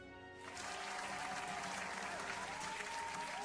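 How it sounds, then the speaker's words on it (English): A recorded applause track starts abruptly after a quiet moment and continues as steady, dense crowd clapping, fairly faint overall with some speech mixed in. "that was my applause track"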